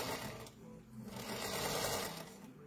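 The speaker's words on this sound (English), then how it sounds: "we're going to sew those two together. Again, we have our leader. Again, we're going to follow the edge of our foot and do our 1/4 inch seam" A sewing machine stitches a quarter-inch seam joining quilt pieces for a log cabin block, a steady close whirring run that dips briefly and then continues, with no talking over it.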